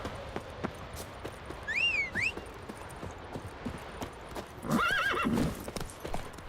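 Roach, the horse in the Witcher 3 video game, clip-clops along with steady hoof beats while letting out two bright whinnies, one early and a longer one near the end.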